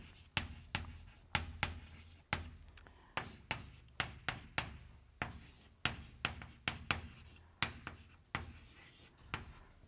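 A pen or chalk draws a diagram by hand during a lecture, making sharp, close strokes and taps in an irregular rhythm with rubbing in between. The room is otherwise quiet.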